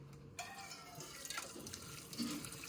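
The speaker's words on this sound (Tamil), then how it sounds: "நல்லா கழுவிடு மீனை." Kitchen tap water runs into a sink while fish are washed, a faint steady splashing stream with small drips and handling sounds, no voices.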